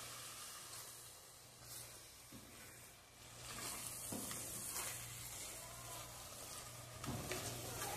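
Kale sautés in a pan with a soft, continuous sizzle and hiss, broken by a few brief stirring scrapes, faint and close with no voices.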